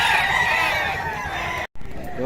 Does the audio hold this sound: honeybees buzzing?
no